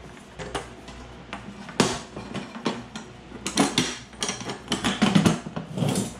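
The hinged lid of a canister used to contain a LiPo battery fire is shut with a series of close metallic clanks, clicks and creaks, heard alone.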